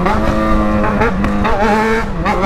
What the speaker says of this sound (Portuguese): Olha as estraladas que dá no escape